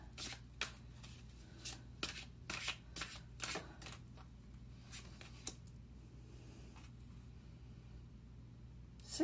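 Tarot cards are shuffled close up in a quiet room, a quick series of crisp riffling snaps and flicks over several seconds, then softer handling.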